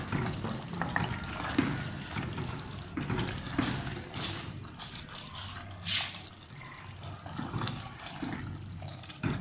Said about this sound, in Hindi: तब तक हम अपने गोश्त को भून लेते हैं।